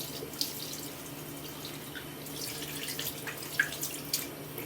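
Tap water runs steadily over soapy hands at a sink, a close continuous stream broken by small splashes and drips as the hands move under it.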